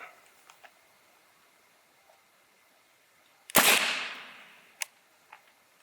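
A single sharp report from a suppressed 300 Blackout rifle fired into a block of ballistics gel, loud and close, followed by a decaying tail and a few small clicks and knocks before and after.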